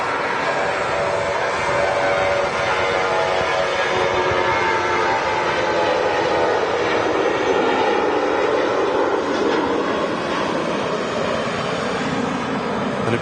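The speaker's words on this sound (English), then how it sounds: "Ryanair 737 on the go." A Ryanair Boeing 737 going around at Manchester Airport, a loud, steady jet engine roar that builds and sweeps in pitch across the whole stretch, with no voices over it.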